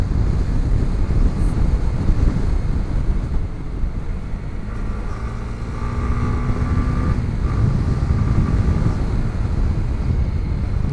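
Honda CB150X motorcycle engine running steadily on a mountain ride, a continuous low drone with a faint rising tonal whine midway, heavily buffeted by constant wind rush across the whole stretch.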